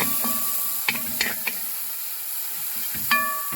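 Chopped onion frying in a pan for restaurant-style paneer butter masala, a steady sizzling hiss broken by several sharp stirring scrapes and clinks of a utensil, close and alone.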